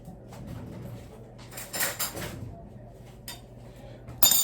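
A spoon is pulled out in a home kitchen while baking a Heath bar cake, giving a few soft metallic clinks and rattles in brief clusters, with a sharper clink at the very end, all fairly quiet.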